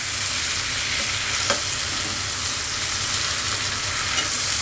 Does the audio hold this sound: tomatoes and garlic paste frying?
yes